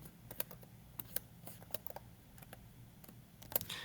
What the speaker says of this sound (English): So I type in the first one.